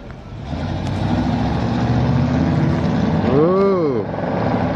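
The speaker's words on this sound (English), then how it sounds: "Sounds like Flowmasters or Cherry Bombs" A 1970 Chevrolet Impala cruising a Montreal street rumbles past with a deep, throaty exhaust through Flowmaster or Cherry Bomb mufflers, steady and close, with a brief rising-falling engine swell near the end and people talking over it.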